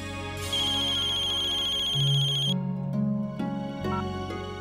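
An electronic phone ringtone plays a bright, repeating melody, loud and close, running for several seconds with no talking.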